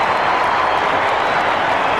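A large Australian football crowd at a Collingwood versus Western Bulldogs AFL match in 2001 roaring after Chris Tarrant kicks a goal, a loud, steady wash of cheering and applause throughout.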